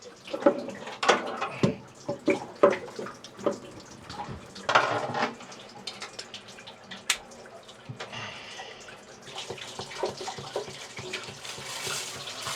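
Water trickling weakly from a garden hose near an aluminum boat, a low-pressure splashing and dribbling with uneven bursts, close and fairly clear.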